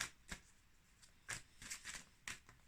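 Tarot oracle cards are drawn and laid down in quick, soft flicks and slaps, several separate close card sounds spaced across a quiet background.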